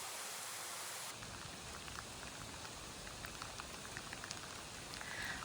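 Heavy rain falling outside at night, likely on a parked car during an overnight stay: a dense, steady hiss of drops with scattered ticks of individual drops, soft and even with no voices.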